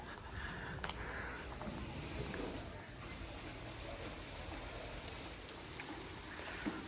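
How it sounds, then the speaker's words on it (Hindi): Heavy rain pouring down steadily over a village in Punjab, a dense continuous hiss of drops striking surfaces nearby, with a few sharper patters rising out of the wash and no talking. "बारिश तेज़ होती जा रही है"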